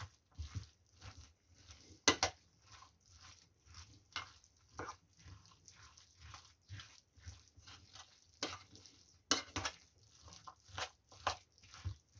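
Wet, squishy scraping and soft clicks repeat in an irregular rhythm, close by, like a spoon working thick onion cutlet batter with flour around a bowl, with no talking.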